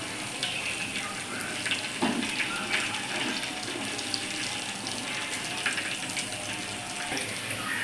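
Cumin seeds and a couple of peppercorns frying in hot oil as the base for a mushroom gravy, giving a steady broadband hiss and crackle with scattered small pops, close and continuous throughout.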